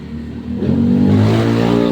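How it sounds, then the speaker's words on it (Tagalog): A loud engine roars and revs up nearby, rising in pitch and intensity as the vehicle accelerates. "ingay ng motor"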